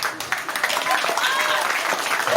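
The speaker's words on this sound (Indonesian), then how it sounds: "tepuk tangan" Audience clapping through a comedic Balinese bondres stage performance, a steady dense patter of hands holding at one level from start to finish, with faint voices mixed in under the applause.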